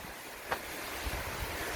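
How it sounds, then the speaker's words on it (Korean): Water flows steadily in a forest stream near a hiking trail, a continuous broadband rush with a faint wind-like hiss. One brief soft tick sounds near the middle. "오, 시원한 물소리."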